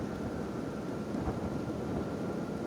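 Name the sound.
lightning and thunder in rain, video game Kenshi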